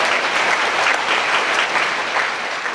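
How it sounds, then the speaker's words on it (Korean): Church congregation clapping together in a sustained, dense burst of applause that fills the room evenly from start to finish, with no voices over it. "박수 한 번 올리겠습니다."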